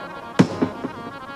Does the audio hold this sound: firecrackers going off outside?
yes